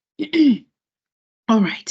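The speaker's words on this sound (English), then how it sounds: "So sorry with all the coughing and pauses." A speaker with a dry throat, coming down with flu or a cough, clears the throat in a short rough burst, then after a pause speaks briefly at close range.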